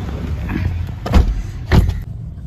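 A car on the road passes close by twice in a rising-and-falling whoosh, with a steady engine hum underneath and no talking.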